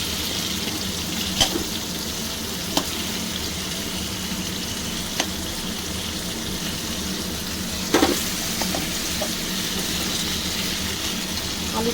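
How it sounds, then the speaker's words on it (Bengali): Potatoes fry in oil with a steady, close hiss throughout, broken by a few sharp clicks of a utensil against the pan. "ভেজে নেব আলুটা"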